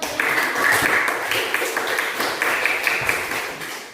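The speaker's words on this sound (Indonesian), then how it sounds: "terima kasih, tepuk tangan." Classroom applause from students, a steady broadband patter of many hands clapping that holds for about four seconds at moderate loudness, with a few voices mixed in.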